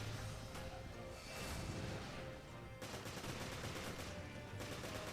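Gunshots in Resident Evil Revelations, a dense run of sharp reports and impacts layered over a constant busy game background, rather quiet overall with no speech.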